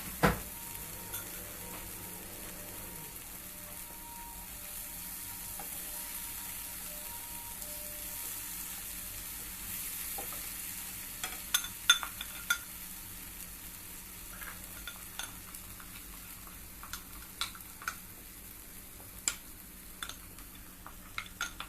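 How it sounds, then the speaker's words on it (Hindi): Food roasting in a pan over a low flame gives a quiet, steady sizzle, with sparse ticks and scrapes from stirring growing more frequent toward the end. "स्लो फ्लेम पर हमें इसे भून कर लेना है।"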